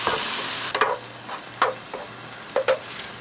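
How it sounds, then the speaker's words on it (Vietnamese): Soft sizzling of minced tomatoes stir-frying in hot oil in a pan, with a few scraping stirs of a utensil at irregular intervals, no voices. "mình cho cà chua băm vào xào nè."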